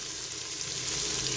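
Onions sizzle and fry steadily in a pan for white chickpeas, a continuous close crackling hiss with no voices.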